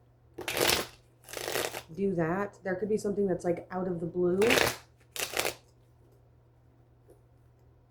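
Tarot cards shuffled in quick, crisp bursts, two near the start and two more after a stretch of talking, with a person speaking between and around the riffles.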